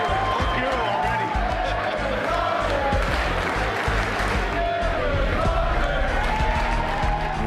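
A large crowd at the 2005 NFL Draft cheers and applauds for Aaron Rodgers in a loud, sustained roar that fills the whole stretch, with voices mixed into the din.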